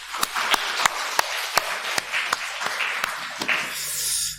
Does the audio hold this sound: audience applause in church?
yes